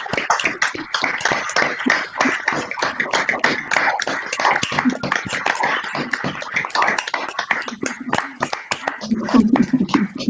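Enthusiastic applause from a theatre company group, dense rapid hand claps sustained throughout, close and lively, with voices mixed in beneath.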